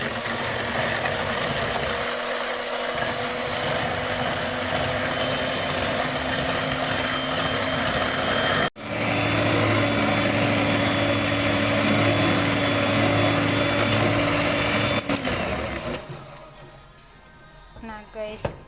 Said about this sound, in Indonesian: ini kita mixer sampai dia mengembang ya guys